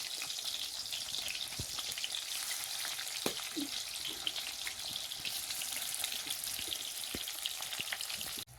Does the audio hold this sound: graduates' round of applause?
no